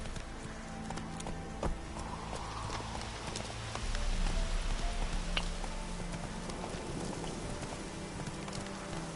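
Roach the horse trots along in The Witcher 3, with steady, even clip-clopping hooves over a soft outdoor ambience and no voices.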